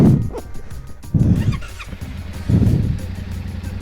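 Yamaha Ténéré 700 motorcycle engine with the clutch being slipped, low rumbling engine surges that rise twice and ease off, close and fairly loud.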